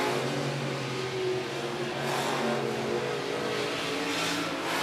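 IMCA stock cars race around the I-76 Speedway with a continuous loud engine roar that rises and falls slightly as the pack runs single file.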